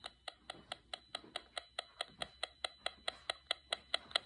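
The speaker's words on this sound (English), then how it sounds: "I want you to listen to the particular rhythm of the sound the meter's making and hear how that gets closer when we get closer to the hearing aid" An EMF meter held near a hearing aid ticks in a fast, regular stream of sharp clicks, about four per second, close and clear over faint background hum.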